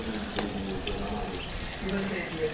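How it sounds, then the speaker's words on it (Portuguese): Rainwater trickling and running through puddles after a heavy downpour in the dry backcountry of Ceará, a steady close watery wash with small splashes, briefly joined by a voice. "um pouquinho de poças d'água aqui, ó, escorrendo."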